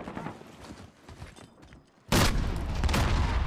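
Loud grenade blast in a modern military shooter video game, a sudden broadband boom after a stretch of quieter background gunfire and rumble, with the roar sustained to the end.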